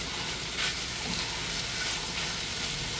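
Chicken pieces browning in a hot pan for chicken tinola, a steady soft sizzle and crackle of frying that continues evenly with faint stirring noises.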